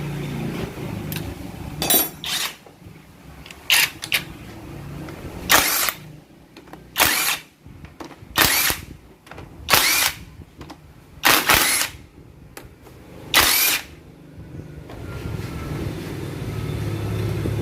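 Short whirring bursts from a power tool spinning off 12 mm oil pump bolts on the automatic transmission of a Mitsubishi Grandis, about eight bursts spread irregularly, fairly close, with quiet pauses and clinks between them.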